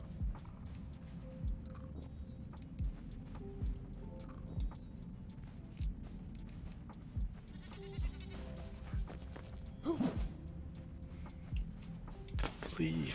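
Goats bleat repeatedly in the video game Enshrouded, short nasal cries scattered over several seconds above a low rumbling background, with some footstep-like thumps.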